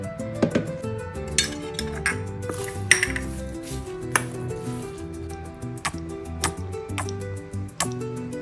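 A spoon scrapes and clinks against a metal pan as tomatoes and other vegetables are mixed with garlic paste for a brinjal palya. The clatter is steady and close, with soft squishy stirring between the clinks.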